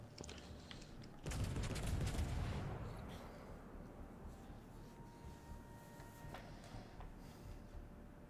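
Warship guns firing in World of Warships: Legends, a burst of heavy booming salvos up front that fades into a lingering rumble and distant battle noise.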